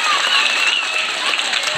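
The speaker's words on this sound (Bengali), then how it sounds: "স্যারের জন্য একটা জোরে করতালি হবে।" An audience at a school's annual results ceremony gives a teacher loud, dense applause, many hands clapping steadily without pause.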